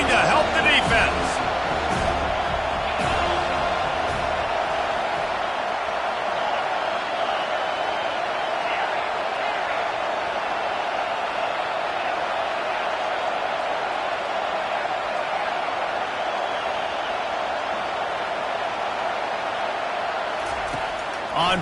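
Stadium crowd noise from a Madden football video game, a steady loud roar sustained throughout as the home fans rally behind the defense late in the game, with commentary voices talking over it.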